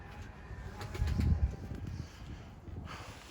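Young tumbler pigeons flap their wings in flight, a burst of close, fluttering wingbeats swelling in the middle and then easing, with faint bird sounds around and no speech.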